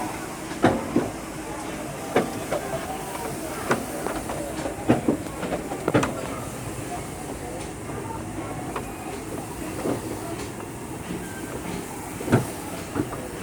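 Disneyland Railroad train, Holiday 5 Blue behind the Fred Gurley locomotive, rolls along the track with a low steady rumble and periodic clacks and clunks, heard from aboard at moderate volume.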